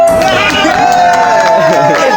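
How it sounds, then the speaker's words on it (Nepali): Applause and clapping from a crowd indoors, steady and fairly loud under a voice talking throughout. "भित्रबाट पनि ताली आउँदैछ"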